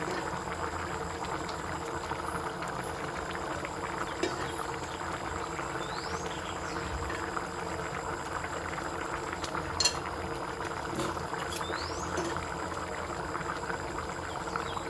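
A pot of rice for egg biryani at a rolling boil, a continuous bubbling churn that holds steady and moderately loud throughout, with a few faint clinks and no voices.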